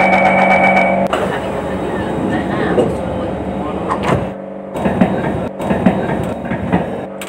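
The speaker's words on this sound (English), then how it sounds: "doors are closing" An SMRT C151 metro train in the OpenBVE simulator closes its doors, shown by a chime tone at first, then sliding door thuds over a loud, steady carriage rumble. Speech-like announcements sound in the background.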